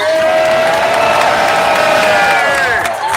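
Rally crowd in Washington, D.C. at a Juneteenth reparations event roars with sustained cheering, whoops and applause, loud and dense throughout, easing slightly near the end.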